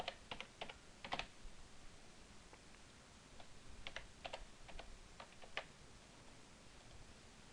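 Quiet keystrokes typing a name on a computer keyboard, in two short bursts of taps separated by a brief pause, over a faint steady hiss.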